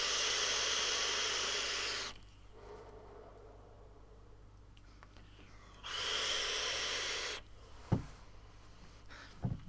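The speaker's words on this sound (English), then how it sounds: "Vaping away like this." Two drags on a Vandy Vape Pyro RDTA give a loud, close airflow hiss, each lasting a second or two, separated by quiet stretches with faint clicks.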